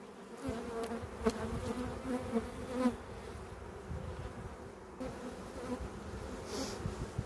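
Honey bees buzz steadily around an open hive during a spring inspection in Pennsylvania, a dense continuous hum of many insects close by, with occasional louder passes of individual bees and no talk.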